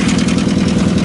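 A heavy Japanese excavator diesel engine, just started after long standing with a dead battery, runs at a steady idle nearby, a continuous low throbbing rumble with nothing else heard.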